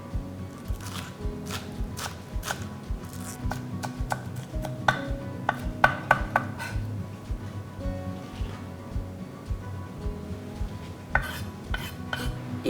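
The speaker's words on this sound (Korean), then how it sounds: "이 파란 윗부분만 송송 썰 거예요." A knife slices green onion tops on a cutting board in quick irregular taps, close and fairly soft, with small clatters between the cuts.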